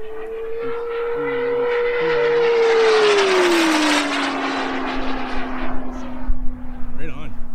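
An Aviation Design Diamond target drone makes a high-speed flyby: a loud, steady engine whine sweeps past and drops sharply in pitch as it passes, then fades as wind buffets the mic and people talk nearby.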